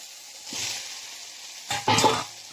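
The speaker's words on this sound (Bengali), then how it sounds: "এখন ভেজে রাখা আলুটা দিয়ে দেবো।" Fried potatoes are added to spiced oil in a pan, giving a soft hiss followed by a brief, louder sizzling burst near the end.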